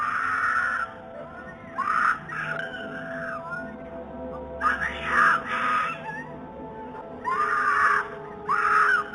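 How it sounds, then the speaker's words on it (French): A woman screams loudly and repeatedly, as if in danger, in sustained high-pitched bursts over a steady background hum, the cries coming in several separate waves at a moderate distance. "Les cris d'une femme étaient très forts,"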